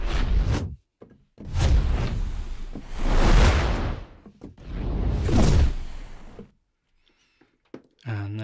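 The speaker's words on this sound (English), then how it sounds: "let's have a listen to maybe modern Whooshes" Modern whoosh sound effects from the Keepforest Evolution Atlantica library play as four loud, sweeping swells that rise and fade one after another, alone and without talk, followed by a short fluttering tail.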